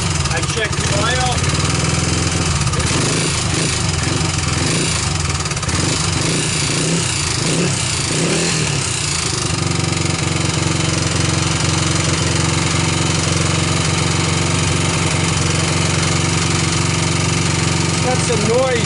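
A 1999 Honda Fourtrax TRX250X ATV engine runs with a noise coming from the cylinder head, a loud, close, continuous idle with an uneven pulsing rumble that steadies about halfway through.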